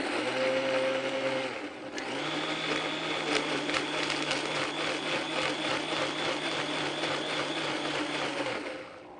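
An electric blender whirls batter with salt and flour, starting with a brief whine, then running as a loud, steady whirring drone for several seconds before winding down.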